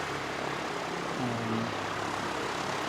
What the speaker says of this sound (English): Aviation Academy / Aero Club aircraft starting up, so that's what's going to dominate the soundscape for you.